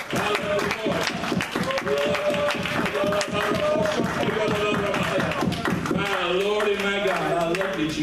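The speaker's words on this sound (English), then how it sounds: "Why don't we give Him a clap?" A church congregation claps in a steady rhythmic beat during a sermon, the claps sounding under a loud voice that carries over them.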